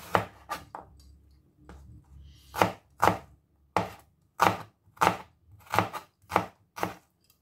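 Onion chopped by knife on a cutting board, about a dozen crisp, separate thuds that start sparse and then fall into a steady rhythm, close and clear, with no talking.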